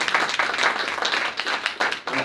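An audience at a presentation on renovating the Le Galinet middle school in Blain applauds a speaker, with distinct, uneven hand claps swelling and thinning in bursts, moderately close, with no talk over them.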